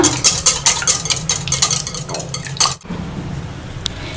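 Eggs beaten in a bowl for egg paniyaram: rapid rhythmic clinking and scraping of a utensil against the bowl, close and fairly loud, pausing briefly before resuming more softly.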